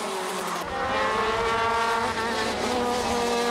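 A pack of 21 KZ2 racing karts at a Pro-Kart event in Wellington, racing on the track during the pre-final: a loud, continuous, high-pitched engine whine with layered, overlapping motors, swelling after a brief quieter start.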